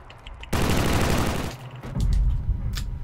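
Grenade explosions and bursts of gunfire in the Killzone Shadow Fall multiplayer game on the Factory map, a loud blast opening a long roaring burst, then further heavy booms and crackling fire, with no talk.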